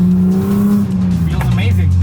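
BMW E36 with an M52B28 inline-six, freshly serviced with new oil and MAF sensor, revving steadily up and down in a loud, sustained engine drone, close by.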